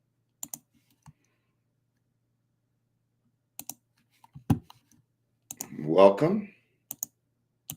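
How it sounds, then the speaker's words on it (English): A computer mouse with a microphone sitting right beside it gives sparse, sharp double clicks spread across several seconds, and a person speaks briefly between them. "Maybe I shouldn't have my microphone next to my mouse."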